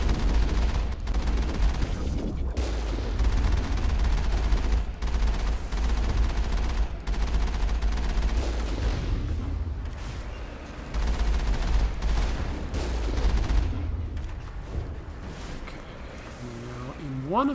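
Gunfire in the Mass Effect co-op video game, with sustained bursts of shooting and heavy rumbling booms from a tank battle, fairly loud and continuous, with some voice activity mixed in.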